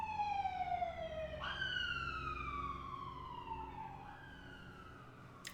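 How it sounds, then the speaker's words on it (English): An ambulance siren wails through a steady wavering tone that drops in pitch twice as the vehicle passes at moderate distance over a continuous hum of traffic and room noise, with no one speaking. "Hopefully whoever that ambulance is rushing to is okay."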